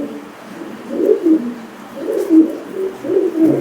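A female pigeon coos close by, three soft, low rolling calls in a slow steady rhythm.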